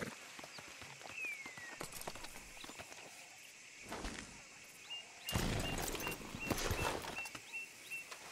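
Horse hooves in the video game Red Dead Redemption 2, a series of quiet clip-clop steps on hard ground with a louder rustling, crunching burst of movement later on; no whinny stands out.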